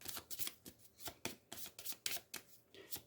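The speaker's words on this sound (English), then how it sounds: "I'm going to shuffle my terror deck." A terror deck of board game cards is shuffled by hand, giving a quick run of crisp riffling bursts in a steady rhythm, close and fairly quiet with no talking.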